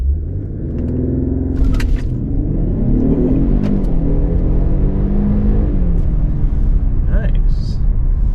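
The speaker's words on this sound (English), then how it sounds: "let's do a launch test here. And got it in Sport Plus mode, traction control off" A 2018 Infiniti Q60S launches hard in Sport Plus mode with traction control off, its all-wheel drive briefly slipping: a loud, close engine rumble climbs steadily through revs for several seconds, with faint talk mixed in near the start and end.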